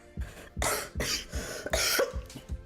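A run of harsh, close coughs and throat clearing, repeated about six times in quick succession with short breaths between, loud and with no speech.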